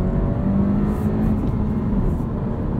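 A 2022 Honda Civic Sport Touring manual hatchback with a 180-horsepower engine drones steadily at higher revs, a continuous close engine hum with a faint whine riding on top and no talking.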